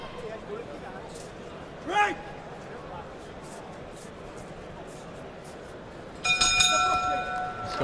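Boxing bell ringing once to end a round in a bout between two fighters, a brief metallic ding under crowd noise and ringside commentary, followed by a louder ringing burst near the end.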